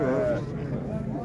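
Sheep at a livestock market in Yaypan, Uzbekistan, giving a single short wavering bleat close by at the start, fading into a murmur of crowd noise and voices.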